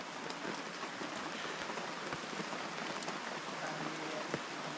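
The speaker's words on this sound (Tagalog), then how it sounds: "sana wag lang lumakas yung ulan" Steady rain patters down in a soft, continuous hiss, fairly faint, with scattered drops ticking on a surface.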